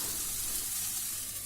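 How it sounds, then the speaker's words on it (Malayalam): Chopped tomato with chilli powder frying in a hot pan, giving a steady, close sizzle and hiss without a break. "നമുക്കതിലേക്ക് ഒരു തക്കാളി ചെറുതായിട്ട് നുറുക്കിയതാണ്, അതിട്ട് കൊടുക്കാം"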